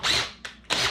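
A power drill pre-drills holes in a thick plastic tub, heard as three loud close bursts of whirring, the first longest, with short pauses between.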